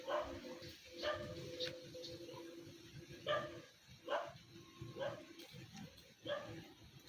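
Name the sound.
dog barking in an eco park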